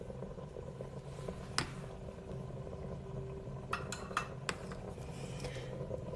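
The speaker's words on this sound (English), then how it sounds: "And again, stir." Chili being stirred in a pot, a low steady bubbling hum broken by a handful of sharp metallic clinks of a spoon against the pot, close and moderately quiet, with no speech.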